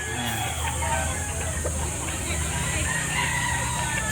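A White Kelso rooster crows amid the steady din of a busy chicken market in Lipa, Batangas, with other fowl and distant traffic filling the background.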